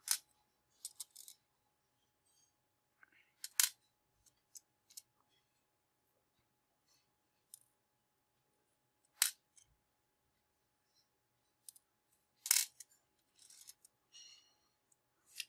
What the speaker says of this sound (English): set the spring and screw apart from the washer